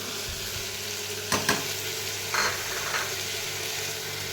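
Vegetables such as peas, beans and carrots fry in a pan for a vegetable kurma, with a continuous close sizzle and a few brief clatters of stirring, with no talk.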